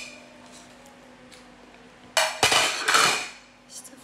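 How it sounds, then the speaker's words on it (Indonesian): A plate and spoon set down on a surface: a few sharp ceramic and metal clinks and clatters in quick succession, close and fairly loud after a quiet room hum. "piring sama sendok ditaruh doang"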